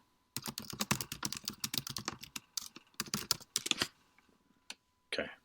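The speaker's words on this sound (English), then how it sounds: "Okay, he's typing again." Rapid clicking of keys as someone types on a computer keyboard, in quick bursts with short pauses, close and fairly quiet, with no talking.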